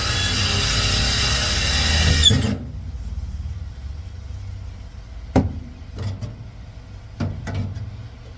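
A drill boring a pilot hole through metal whirs loudly for a little over two seconds, then cuts off, followed by a few sharp knocks and clatters against a quiet background.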